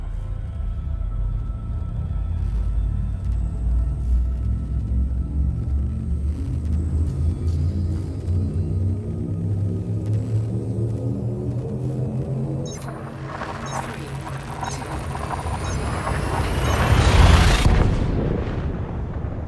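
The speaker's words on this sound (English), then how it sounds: "Frameshift drive charging." A spaceship's frameshift drive charges up in the game Elite: Dangerous, a deep steady rumble with rising tonal layers that swells into a loud bright surge near the end, with no talking.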